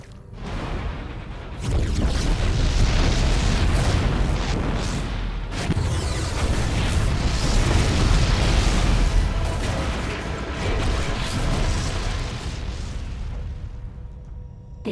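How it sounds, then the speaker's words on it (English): Heavy explosions from the StarCraft II video game Heart of the Swarm boom and rumble almost continuously, loud and dense, with sharper bursts layered over a sustained roar. "The explosions have stopped."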